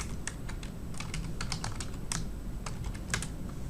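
Typing on a computer keyboard: a quick run of light, close key clicks in an uneven rhythm against a faint steady background hum.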